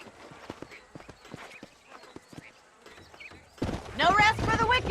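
Horse hooves clip-clop at a relaxed walking pace in a Western video game, a string of distinct close hoof strikes, followed by a louder burst of other sound near the end.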